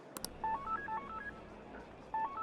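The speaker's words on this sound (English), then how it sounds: "Oh, her phone's pinging." A phone in Persona 5 Royal pings with an incoming message: a short chime of rising electronic tones plays twice, the first one near the start and the second near the end, over a quiet game background.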